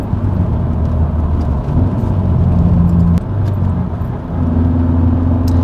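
A manual-transmission car's engine blips and revs through a heel-toe downshift, made while braking; the steady engine drone climbs in pitch twice in quick succession, loud and close, with no talking.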